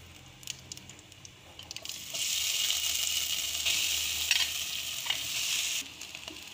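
Potatoes drop into a hot frying pan for aloo bread pakora filling, a few soft clatters giving way to a loud, steady sizzle that holds close and constant, with no one talking.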